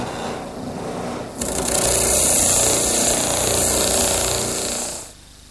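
A drum sander smooths the edge of a wood cut, starting with a softer whir and then rising into a loud, steady abrasive whine for several seconds before cutting off abruptly.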